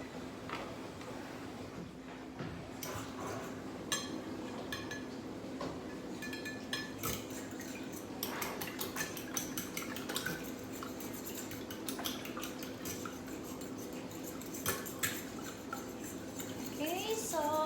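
Milk and eggs being whisked together in a bowl for French toast: rapid clinking and scraping of a utensil against the bowl, close and continuous, with soft background hum and no voices.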